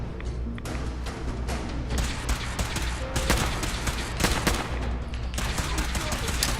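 Rapid automatic gunfire from a Fallout 4 firefight crackles in dense, overlapping bursts of sharp shots that continue throughout at moderate loudness.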